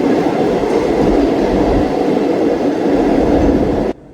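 A train runs past St. Thomas Mount railway station in Chennai on the Tambaram–Chengalpattu section, a loud, continuous rumble and rattle of wheels and carriages close by that cuts off abruptly near the end, with no voices.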